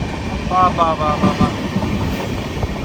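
The Mumbai LTT to Kakinada Port Express rolls along a hillside valley route, a loud, close rumble with rhythmic wheel clatter and brief squeaky tones over the steady roar.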